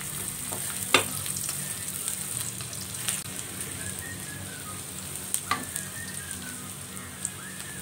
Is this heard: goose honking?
no